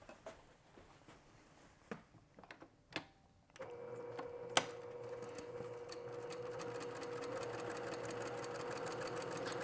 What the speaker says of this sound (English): I'm just going to sew nice and slow, keeping my eye on the edge of the presser foot, on the edge of the fabric